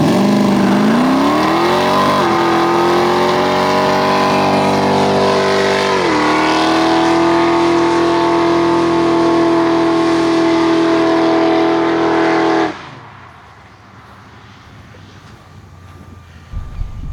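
A 1972 Chevrolet Chevelle performs a burnout on a track-day circuit, its V8 revving up hard and holding a loud, sustained howl with rising pitch steps. The engine then cuts off abruptly, leaving quiet background.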